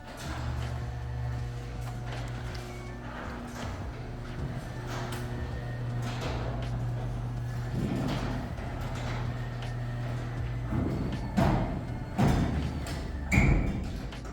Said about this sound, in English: They want to know how loud that garage door is for peace of mind.